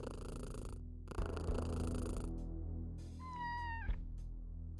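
A cat in the video game Kathy Rain 2 purrs in long, steady rumbling bursts up close, then lets out a single drawn-out meow that rises and falls near the end.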